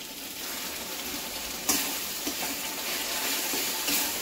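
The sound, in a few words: sautéing spice masala in oil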